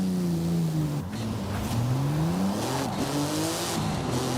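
In Forza Horizon 5, a Porsche drifts downhill in fourth gear, its engine droning loud and close with shifting revs, over a layer of tire noise.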